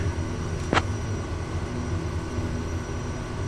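A Kodiak aircraft engine in a flight simulator hums as a low steady drone while taxiing to the runway, with one brief sharp higher burst near the start.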